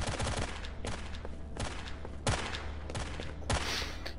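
Gunfire in the shooter video game STALKER comes as repeated loud bursts of rapid automatic shots over a constant background rumble, with short gaps between volleys and no talking.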